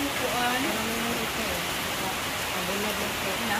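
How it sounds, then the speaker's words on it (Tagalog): Steady rain falls in Mabinay, Negros Oriental, as a constant close wash of hissing drops, with people's voices talking over it throughout. "Laka, umulan na."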